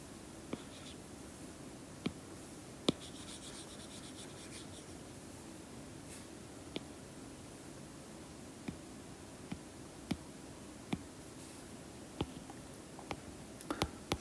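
A marker squeaks and scratches across a whiteboard in soft, intermittent strokes and taps, close but faint against a steady hiss of room noise.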